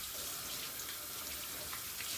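Hot tap water pouring into a sink during hand washing, a steady, close, full rushing splash that stays even throughout the short stretch.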